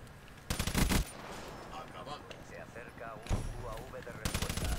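Bursts of rapid automatic gunfire in the video game Black Ops 3 hit hard in three loud stretches, with a voice talking in between.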